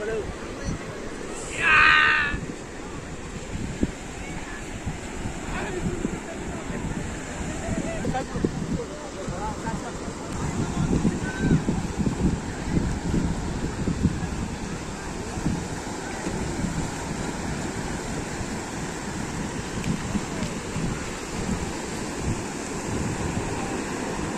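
Sea waves roll steadily onto Panambur Beach in Mangalore, giving a broad continuous wash mixed with gusty wind buffeting the microphone, while a short high chirp sounds early on.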